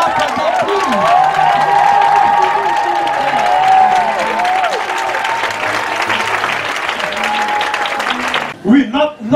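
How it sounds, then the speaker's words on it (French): A church congregation at a Sunday service applauds loudly and steadily for about eight seconds, with cheering, whoops and voices mixed into the clapping before it cuts off abruptly near the end. "I want us to clap for them, please."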